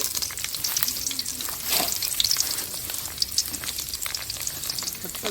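Ginger garlic paste fries in hot sunflower oil for a duck gravy, a loud, close, crackling sizzle with bright spitting pops throughout and no talking.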